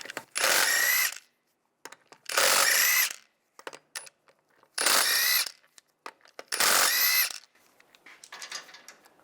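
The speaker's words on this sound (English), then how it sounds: "Take the lug nuts off." An impact gun with a 17mm socket spins lug nuts off the passenger front wheel of a 1999–2005 Volkswagen Jetta. Four loud, even buzzing bursts of about a second each are separated by quiet gaps with small clinks of nuts and socket.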